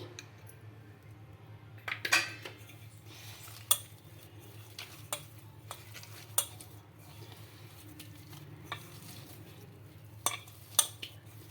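Poha dough being mixed with a spoonful of oil in a bowl: faint soft squishing under a steady low hum, punctuated by scattered sharp clinks of a spoon or hand against the bowl, with no talk.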